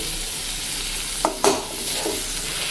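Water and a little sugar go into a sizzling pan of okra, with a steady hiss broken by two sharp spatula scrapes and stirs near the middle, then a softer stir.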